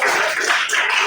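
Brief burst of classroom clapping from a group of students, close and bright, a short sustained patter of hands.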